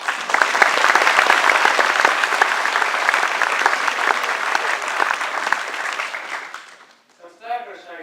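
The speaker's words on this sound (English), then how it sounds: "please give a warm round of applause to Joe" An audience gives a warm round of applause to a speaker about to talk on resonance, dense clapping that fades out, followed by the start of a man's speech.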